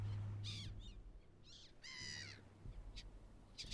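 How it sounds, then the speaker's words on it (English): A seagull in the survival video game Stranded Deep lets out several harsh, raspy cries in short bursts, moderately close, over a quiet low ambient background. "Okay, seagull, it sounds like you're being murdered."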